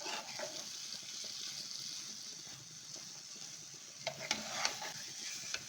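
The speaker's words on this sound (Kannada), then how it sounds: "ನೀರಿನ ಅಂಶ ಎಲ್ಲ ಚೆನ್ನಾಗಿ ಹೋಗೋವರೆಗೂ ನಾವು ಈ ಥರ ಫ್ರೈ ಮಾಡ್ಕೋಬೇಕು" Mango ladoo mixture frying in a pan, a steady soft sizzle with scraping stirring strokes, close and quiet, a few sharper clinks near the end, no voices.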